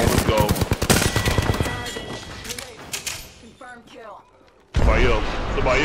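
Rapid, close gunfire in Apex Legends, first a dense burst of automatic shots, then scattered single cracks. After a quieter stretch a loud blast of shots returns, with players talking over the shooting.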